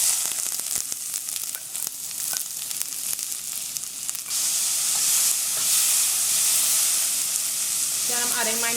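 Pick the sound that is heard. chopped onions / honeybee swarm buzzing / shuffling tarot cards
chopped onions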